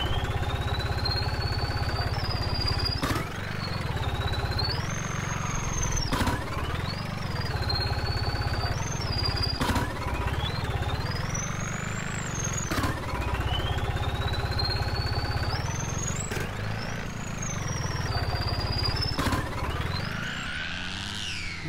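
A New Holland 3630 tractor engine in Farming Simulator 19 drones close and steady. It rises in pitch as it revs through each gear, then drops sharply at every shift, repeating in cycles of a few seconds, with no talking.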